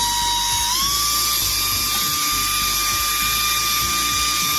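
A portable car vacuum cleaner and air blower runs steadily and loudly with a high whine that rises slightly in pitch near the start, then holds constant alone throughout.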